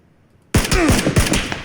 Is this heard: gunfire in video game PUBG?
yes